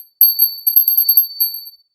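A small ritual altar bell jingles in a quick cluster of bright, thin rings, close and clear, then fades to quiet.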